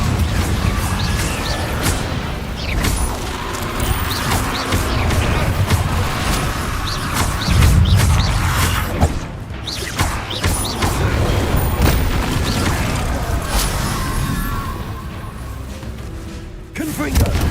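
Confringo spell explosions in the video game Hogwarts Legacy land as repeated booms and crashes throughout, heavy impacts mixed with magical effects while a player talks over them.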